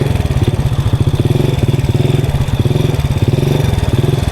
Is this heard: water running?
no